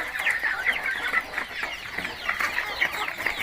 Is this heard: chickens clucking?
yes